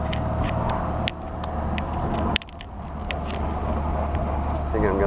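A 1972 VAZ 2101, a Fiat 124-based sedan, drives along a town main street in second gear, its engine droning steadily throughout with a couple of brief knocks, while a person talks over it.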